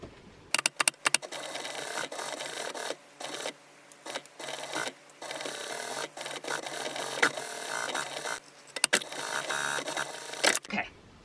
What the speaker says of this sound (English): you're going to go over to your sewing machine and you're going to stitch all the way around this circle